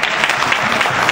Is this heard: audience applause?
yes